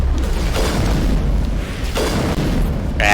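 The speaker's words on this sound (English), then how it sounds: "Shotgun." A shotgun fires in the video game Mass Effect, giving loud, booming blasts at close range, with two heavy bursts in quick succession over dense game noise.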